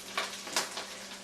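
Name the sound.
cicadas being sauteed in a pan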